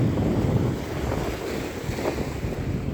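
Strong seashore wind buffeting the microphone over rolling waves, a continuous loud roar and rumble of surf with no voices.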